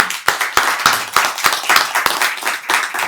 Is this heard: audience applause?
yes